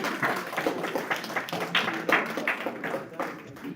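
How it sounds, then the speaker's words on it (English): Crowd applause at an Ekathon 2025 evening event, a room of people clapping in a brisk, uneven patter that swells and eases over a few seconds. "give a huge round of applause for yourselves"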